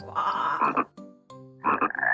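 A frog croaks in repeated bursts, rough throaty calls with a short pause between them, close and clear with no other sounds.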